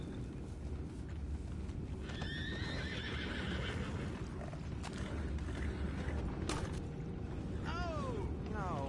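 Horses in an outdoor Western game world whinny and neigh repeatedly, with hooves clip-clopping and wooden creaks under them, while a voice talks over the scene.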